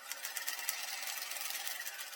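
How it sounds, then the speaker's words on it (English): Sewing machine stitching down toward the tip of a fabric dart, a fast even whirring rattle of needle strokes, close and steady throughout with no voices. "continue stitching right down towards the tip of your dart."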